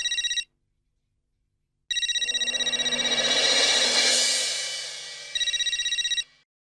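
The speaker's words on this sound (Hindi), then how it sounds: "अब्दुल का फोन इस वक्त?" A telephone rings loudly in electronic trills, a short burst, a pause, then a longer ring over a swelling noise, ending with another burst.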